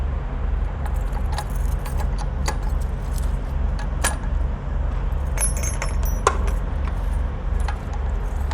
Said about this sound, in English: Feel like a janitor with all these keys on my keychain